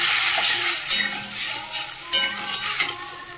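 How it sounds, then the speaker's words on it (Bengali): Water hits a hot, oily pan with turmeric and salt, and the food is stirred in a loud, steady sizzle with a few scraping strokes of the spoon close up, and no talking. "দেখো একটু জল দিয়ে দিচ্ছি।"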